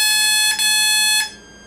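Electronic speed controller of a StrykerQ model aircraft sounding its programming tones: a steady, bright electronic tone with two short pulsed beep bursts layered on top, close and loud, before cutting off.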